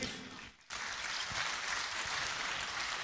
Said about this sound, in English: a round of applause one more time for His Majesty the King